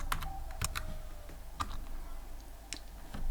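Sparse keystrokes on a computer keyboard while Python code is entered, a few scattered clicks and taps at close range over a steady low background hum, with no talking.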